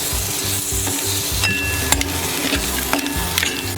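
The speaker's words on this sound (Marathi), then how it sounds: "हे बघा खेकडे आता आपण त्या मसाल्यामध्ये घालून घेऊया. व्यवस्थित परतून घ्यायचे मसाल्यामध्ये." Crabs are stir-fried in Malvani-style masala in a pan. A steady sizzle runs under repeated scraping and stirring strokes, with occasional metallic clinks of a spoon against the pan.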